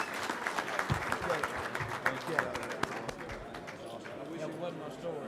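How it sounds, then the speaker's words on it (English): An audience gives a round of applause for football coach Hugh Freeze, a dense burst of clapping with sharp individual claps standing out, thinning gradually over about five seconds as voices mingle in. "Let's give a round of applause to Hugh Freeze, everybody."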